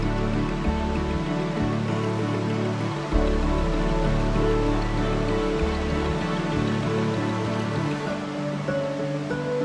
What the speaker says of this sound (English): All you can hear is the water.